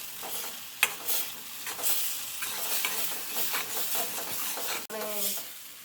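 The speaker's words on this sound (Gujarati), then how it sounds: "તો થોડીક વાર માટે આપણે એને સાતળશું એટલે એને સાઈડમાંથી પાછું તેલ છૂટું પડવા લાગશે" Green garlic chutney sautéing in oil makes a close, continuous sizzle broken by repeated scraping stirs of a spoon against the pan.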